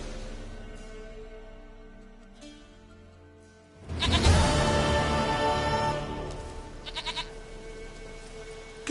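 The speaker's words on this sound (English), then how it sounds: "Goat of mine, dearest," Goat bleating in a fantasy video game, a loud burst of bleats arriving midway after a quieter stretch, with several shorter cries trailing near the end over ambient game sound.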